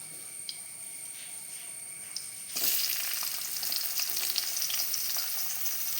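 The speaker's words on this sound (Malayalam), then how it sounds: "ഇതിലേക്ക് നമുക്ക് സവാള ഇട്ട് കൊടുക്കാൻ." Sliced onions drop into hot oil in a pan for a vegetable kurma, and a steady close sizzle swells suddenly louder as they hit, with light stirring clicks over a continuous frying hiss.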